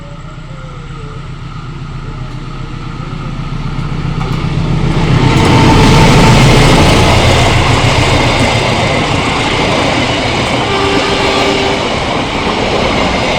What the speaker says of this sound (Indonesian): Dan ini persiapan melintas kereta api Erlangga.